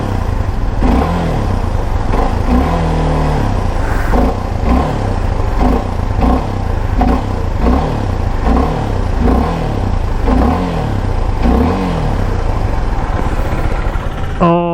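A Suzuki Gixxer SF250 flex-fuel motorcycle running E85, the 28PS model, revs close up with a loud, continuous exhaust note. The throttle blips rise and fall in a repeated rhythm throughout.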